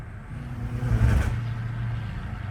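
Supercharged Dodge car engine revving with supercharger whine, a loud close rumble that swells and eases over about two seconds.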